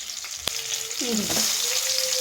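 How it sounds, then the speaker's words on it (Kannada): Chopped onion sizzles steadily in a spoon of oil, a close, even frying hiss with one sharp pop and a brief stirring scrape. "1 ಈರುಳ್ಳಿ ಹಾಕ್ತಾಯಿದ್ದೀನಿ. ಸ್ವಲ್ಪ ಫ್ರೈ ಆಗಿದೆ ನೋಡಿ, ಫ್ರೈ ಆಗಿದೆ."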